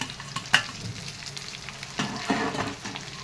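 Chicken 65 pieces frying in hot oil, a soft steady sizzle with a few sharper pops and clinks of stirring, moderately close and quiet.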